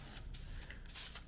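A spray can dusts wrinkle paint onto a valve cover in short hissing bursts, quiet and close, with brief pauses between sprays and no talk.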